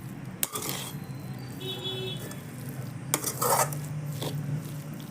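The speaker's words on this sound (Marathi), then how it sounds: "छान असं मिक्स करून घेऊयात बटाटा एकदम पूर्ण असं मॅश नाही करायचा" Potato filling for pav vada being mixed in a pan with the gas off, scraping and clattering of a metal spoon against the pan, with a faint sizzle, irregular knocks and a louder burst of stirring near the end.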